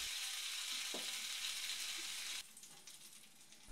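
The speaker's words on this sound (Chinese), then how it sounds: "把蒸熟的咸猪肉放进去煎一下" Steamed salted pork frying in a little oil in a flat pan over low heat gives a steady, dense sizzle that crackles throughout, dropping a little quieter toward the end, with no voices.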